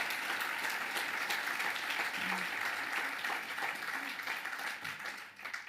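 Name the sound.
audience applause at a municipal new year speech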